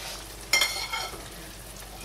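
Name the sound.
stirring beef cubes and water in a pan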